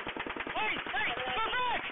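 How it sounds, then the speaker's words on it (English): Rapid bursts of gunfire ring out across a Las Vegas scene during an attack fired from a 32nd-floor room of the Mandalay Bay, recorded on a police body camera, with loud, sustained reports and voices audible beneath the shots. "officers tried to figure out where the gunfire was coming from"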